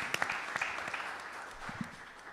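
Faint audience applause at a city council debate: scattered claps rise into a soft, sustained patter heard from a distance in a large room, fading after about two seconds.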